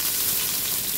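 Onions hiss in mustard oil in a pan, a brief, steady sizzle heard close with no talking.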